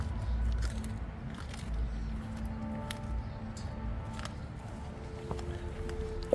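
Dogs gnaw on raw duck heads and beef trachea, producing close, wet crunching and biting sounds in an irregular rhythm that continues throughout.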